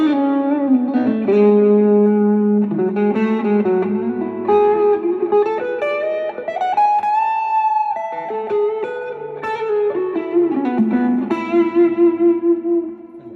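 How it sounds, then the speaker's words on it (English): Electric guitar notes and chords played through a reverb effects pedal, each note ringing out and blurring into a long washy tail, loud and close. "And then you've got different flavors of reverb too."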